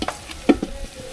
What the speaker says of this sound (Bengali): এখন দিয়ে দিচ্ছি পেঁয়াজ।